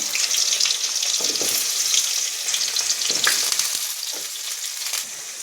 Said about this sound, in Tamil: ஓரளவுக்கு எண்ணெயிலேயே இப்படி நல்லா சுரக்கா வதக்கணும்